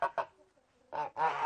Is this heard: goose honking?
yes